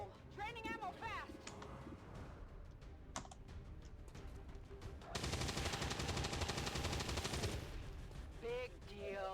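XCOM 2 gunfire: a sustained burst of rapid ballistic shots in the middle, with sparse clicks and brief effects around it and a synthetic game voice at the start and end.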